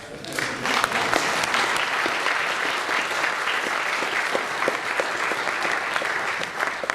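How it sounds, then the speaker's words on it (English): A crowd applauds steadily, a dense patter of many hands clapping that holds at an even level throughout. "And you can applaud again if you want."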